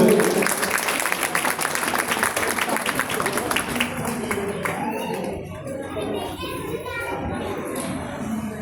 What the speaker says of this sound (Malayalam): ഒരു നല്ല കയ്യടി കൊടുക്കാം നമുക്ക്.